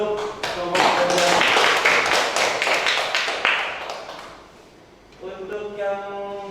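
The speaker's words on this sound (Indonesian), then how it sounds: "Kasih aplaus untuk kelompok kedua." Classroom applause for a student group: a burst of many hands clapping at close range, fading after a few seconds before voices resume talking.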